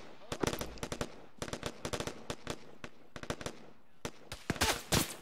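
Gunfire in the military game Arma, with rapid bursts of automatic fire in clusters, some nearer and louder, building to heavier blasts near the end as a missile strike arrives, with voices faintly underneath.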